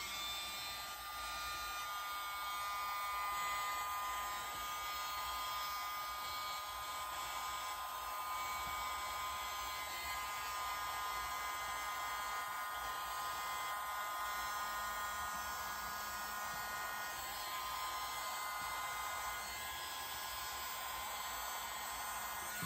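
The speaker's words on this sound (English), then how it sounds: "I'm going to use my little leaf blower here, the world's smallest leaf blower" A tiny handheld leaf blower aimed at a Dutch pour painting made with Golden high flow fluid acrylics gives a steady, even whir that holds throughout at a fairly low level, with no one speaking.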